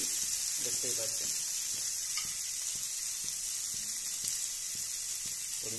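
Cut prawns fry in a pan, giving a steady soft sizzle with a few light stirring scrapes, heard close and fairly quiet throughout.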